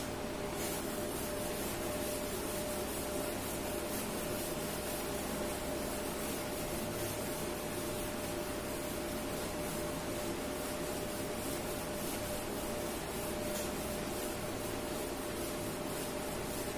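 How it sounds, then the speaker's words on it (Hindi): A board is rubbed clean with a continuous, even scrubbing noise that stays steady and fairly close for a long stretch. "मैं रब कर रहा हूँ"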